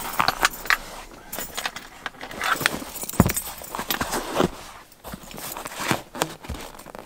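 A truck key and a spare key jangle close up in someone's hand, in irregular bursts of metallic clinks and rattles with short pauses between, and no talking over them.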